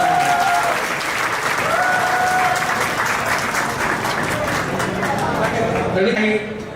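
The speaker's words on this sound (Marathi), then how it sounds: "अविनाश पाटील सरांना जोरदार टाळ्या" A school reunion crowd gives a teacher loud, sustained applause, dense clapping filling the room with a few voices heard over it before it cuts off abruptly.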